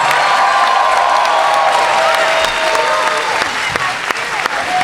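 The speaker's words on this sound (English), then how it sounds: "I need y'all to start clapping right now. Give it up for Sutherland." At a Power Rangers anniversary convention panel, a large crowd claps and cheers loudly and continuously, a dense roar of hands and shouts filling the hall with voices mixed in.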